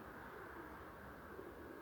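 Pigeons cooing inside a pigeon loft, a soft, continuous low murmur of overlapping coos with steady faint background noise and no talking.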